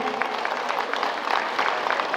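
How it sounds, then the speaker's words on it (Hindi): Hearty applause from the audience at a Sahu community gathering in Bhilai, a moderately loud, continuous wash of clapping hands with no speech over it. "एक बार जोरदार ताली हो जाए।"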